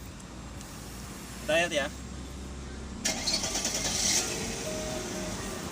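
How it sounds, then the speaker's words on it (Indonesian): A 2001 Mercedes S280 W220 engine turns over with a short starter whir, then catches and settles into a steady idle, heard close up while someone speaks briefly over it. "Seperti biasa kita pengen tahu suara mesinnya, kondisinya seperti apa di tahun 2001 ini."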